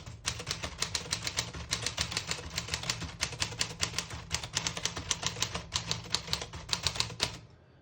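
A 1938 Corona Silent portable typewriter typed at a steady pace, a fast run of crisp key strikes with brief pauses between bursts, close and alone with no talking.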